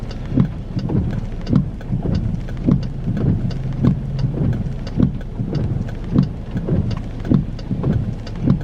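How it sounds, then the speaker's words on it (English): A sudden downpour of rain drums steadily and close by, with regular rhythmic surges in the pattering and a low rumble underneath, with no voices. "This rain kind of came out of nowhere."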